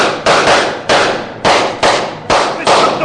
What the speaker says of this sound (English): You other men, fire at that wagon!